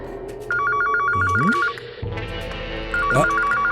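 A phone rings with a trilling electronic bell in two bursts, separated by a short pause, clear and fairly close amid light indoor noise.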